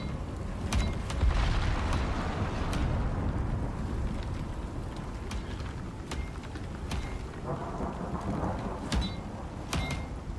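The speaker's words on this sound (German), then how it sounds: "Ja, der Sturm ist gleich vorbei." Steady rain and rumbling thunder from a storm in the survival game ICARUS, a continuous dense wash with sharp crackling strikes and low rolls recurring throughout, loud and enveloping with no talk over it.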